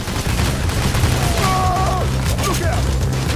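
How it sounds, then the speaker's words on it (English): Gunfire in the video game Payday: The Heist during a firefight at a bridge: a continuous loud barrage of overlapping shots and booms, with a voice speaking over the clatter. "The hell is shooting?"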